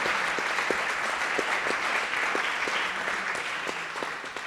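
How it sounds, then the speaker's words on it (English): Steady applause from a conference audience at a closing ceremony, honoring journal editors; a dense, even wash of clapping held at moderate level throughout, easing slightly toward the end. "So please applause for them because of their work"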